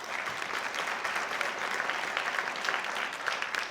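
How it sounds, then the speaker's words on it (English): An audience at the Berea City School District's State of the Schools 2016-17 event in a hall applauds steadily throughout, with dense, even clapping and no pauses. "So if we can give them a round of applause."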